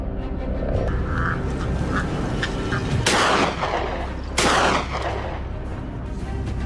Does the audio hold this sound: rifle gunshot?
yes